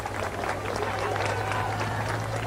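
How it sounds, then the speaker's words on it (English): A large crowd at the Guildhall in Exeter cheers and applauds as riders set off on a 55-mile cycle race stage to Plymouth, a dense continuous roar with a steady low hum beneath it. "There was a huge crowd to send the riders off from the Guildhall on this 55-mile leg from Exeter to Plymouth."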